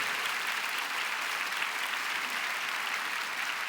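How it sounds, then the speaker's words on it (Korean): Steady, dense applause from an audience at a church prayer gathering, a continuous wash of clapping that holds an even level from start to finish with no voices over it. "자리 나올 때 우리 한번 큰 박수 한번 주시겠어요?"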